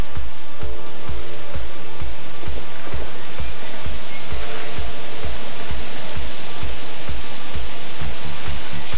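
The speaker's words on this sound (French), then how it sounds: "on a un peu de vent aujourd'hui" Strong wind buffets a microphone at the water's edge while fishing from the bank, a loud continuous roar with regular rhythmic thumps underneath.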